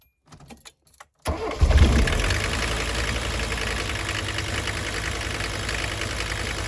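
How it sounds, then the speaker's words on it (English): Mercedes diesel engine cranking and catching after a few clicks and brief quiet, then settling into a steady, close idle. "Key on, glow plugs, neutral, gas."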